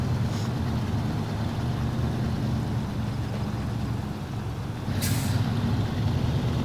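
A rear-wheel-drive truck in SnowRunner crawls slowly through the Black River riverside area, its low engine drone steady and close throughout, with a sharp air-brake hiss bursting out near the end.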